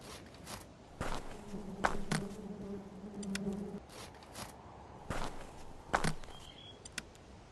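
Bees buzz in the video game Nobodies: Silent Blood, a faint droning hum holding for a few seconds among scattered clicks and soft thuds, with no talking.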